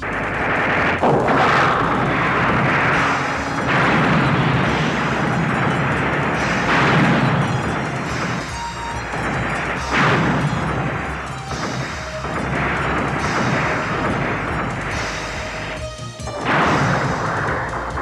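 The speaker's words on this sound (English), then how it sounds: "Fire main turrets." Main turrets firing in an animated mecha battle, loud repeated booming blasts and crashing explosions over a dense roar of combat noise.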